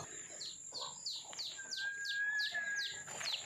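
Young chicks peep in a steady series of high, thin chirps, evenly spaced and fairly close, with a faint whistle-like tone running underneath.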